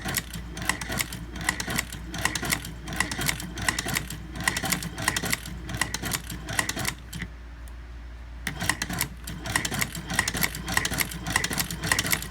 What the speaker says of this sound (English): I barely turned that wheel, and I already have it going through the leather